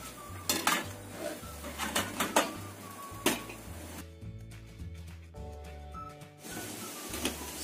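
A metal cooking pot is handled while snacks are readied for steaming: a series of sharp, close clanks and scrapes of cookware and utensils in irregular bursts, with quieter rattling between them and no talk.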